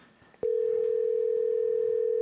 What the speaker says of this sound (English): I'm going to call Kiss.